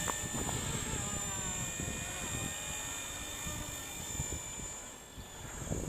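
A MicroHeli S300C RC helicopter hovers outdoors in a breeze, its motor and rotors giving a steady high whine with a fluttering low chop, with wind buffeting the microphone.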